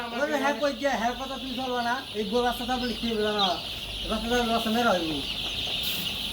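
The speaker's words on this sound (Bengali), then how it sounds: "কোনো মুরগিরে দাবড়ানো যাবে না" Colour bird chickens cluck in a poultry farm, their calls rising and falling in repeated bouts over a steady hiss, with a voice also heard.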